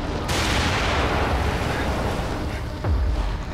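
Shotgun blasts in the survival horror game The Evil Within, heavy booming reports with a dense rumbling wash filling the whole stretch, a sharp blast near the start and another toward the end.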